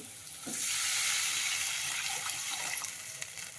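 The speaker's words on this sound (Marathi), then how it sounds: "आता टाकू आपण याला पाणी" Water pours steadily into a pot of raw mango curry with a soft rushing hiss, ending in a few small splashes, close and fairly quiet.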